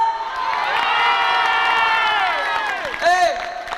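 A concert crowd in Bastia, Corsica, in 1995 cheers and shouts for an encore, a dense sustained roar of many voices with whoops, swelling briefly near the end.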